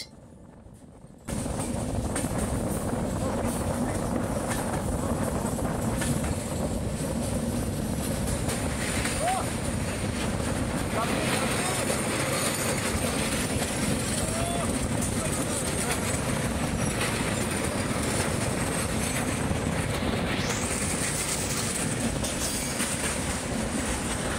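Hirakhand Express passenger train rolling steadily through tunnels and over bridges, a constant loud rumble with faint clickety-clack of wheels throughout, voices faintly audible under the noise.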